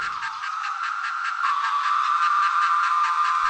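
Periodical cicadas (Magicicada) produce a loud, pulsing buzz, a steady rhythmic throb that swells slightly over a few seconds, heard with no voices.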